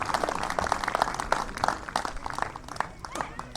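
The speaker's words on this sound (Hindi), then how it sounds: "ताली बजाइए अपने आप के लिए।" A crowd at a local premier league cricket auction claps loudly, dense, uneven applause with sharp individual claps, mixed with murmuring voices and fading slightly toward the end.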